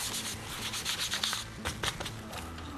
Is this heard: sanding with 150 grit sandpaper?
yes